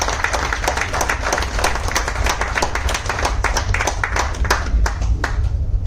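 An audience at a business orientation event in a hotel hall breaks into sustained applause as a speaker is called to the stage, dense clapping from many hands, steady and loud throughout.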